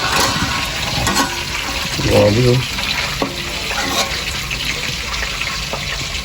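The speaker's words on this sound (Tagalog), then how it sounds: "May another prito pa pala ito para sumarap ang lalo." Meat with its skin on gets a second fry in hot oil, sizzling steadily and fairly close throughout, with someone talking over it.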